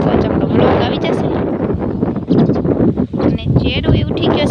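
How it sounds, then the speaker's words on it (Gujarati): Strong wind in open village fields buffets the microphone with loud, rumbling gusts that rise and fall, while a voice talks over it. "પવન છે હાવ ફૂલ કંઈ સંભળાશે નહીં એવો પવન છે"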